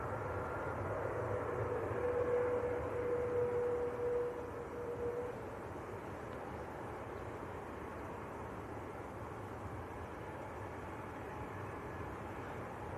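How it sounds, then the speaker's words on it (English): Finnair Airbus A320 from Helsinki at Manchester Airport, a steady broadband engine roar that swells slightly early and then holds at a constant, moderately distant level throughout, with no voices. "This is an A320."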